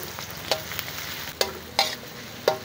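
Shallots sizzle as they fry in a pan, a steady crackle broken by four or five sharp clinks of a utensil stirring against the metal, close up with no talking.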